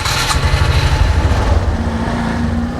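A motorbike taxi engine rumbles close by amid busy Bangkok traffic noise, steady and loud with a low, throbbing drone.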